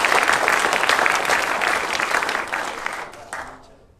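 An audience at a college reunion panel session claps steadily, loud at first and gradually thinning out, trailing off into quiet near the end.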